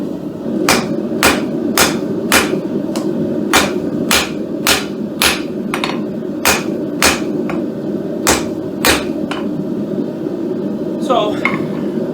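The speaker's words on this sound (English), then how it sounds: "then we'll chisel in the ears and the eyes" A mallet taps a chisel while a wooden chess piece is carved, giving loud, sharp, evenly spaced knocks about twice a second over a steady background hum.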